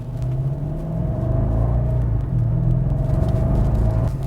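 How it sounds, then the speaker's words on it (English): Inside a 2012 BMW 750Li M Sport xDrive sedan cruising on the road, a steady low road rumble and engine hum fill the cabin, loud and constant with no talk. "Thanks for joining me for a quick cruise in this gorgeous 2012 BMW 750Li M Sport xDrive."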